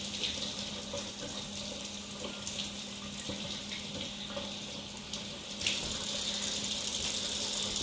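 Tap water runs steadily over an acorn squash at a kitchen sink, a continuous close hiss and splatter with a brief louder surge near the end, no talking.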